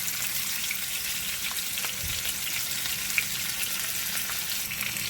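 Salmon fillet frying in a pan for a honey glazed cilantro lime dish, a steady close sizzle with small pops and crackles throughout, no talking.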